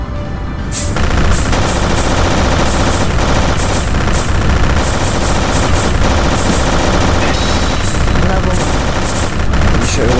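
Charge shots in the Japanese space-invader-style game Audiostrike fire as dense, continuous, loud, rapid blasts, repeated bright zaps over a constant roar of game sound throughout, with no talking.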